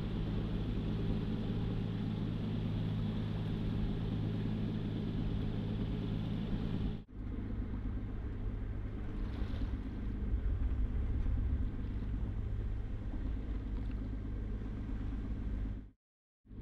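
A sailboat's engine runs at sea during a solo Atlantic crossing, a steady low rumbling drone that holds without a break, dips briefly once, then cuts off near the end, with no talking.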